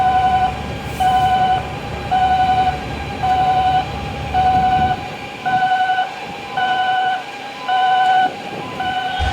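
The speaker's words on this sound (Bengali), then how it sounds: "এবার আপনাদের চট্টগ্রাম বন্দরের বিশেষ 3টি ক্রেনের সাইরেন শোনাবো।" Quay gantry crane warning siren at Chittagong port, a loud repeating two-tone electronic wail in regular pulses of about a second, sounding nine times over a low machinery rumble that drops away halfway through.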